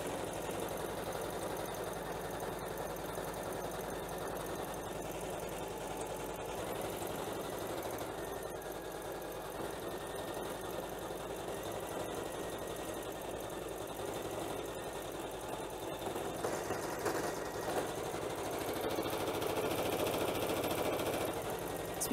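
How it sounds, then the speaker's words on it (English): A Janome embroidery machine stitching letters onto terry cloth, a steady close mechanical whir and rapid needle chatter running unbroken throughout. "So we'll let this continue stitching"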